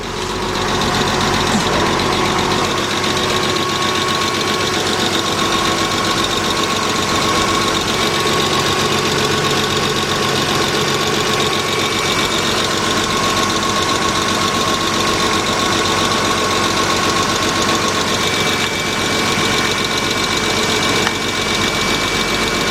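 A 2.5-litre engine in a 1999 Porsche Boxster idles steadily with an oil leak, a continuous, even mechanical hum and faint ticking that runs unbroken, close and fairly loud, with no voices.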